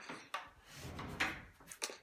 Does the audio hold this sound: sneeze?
no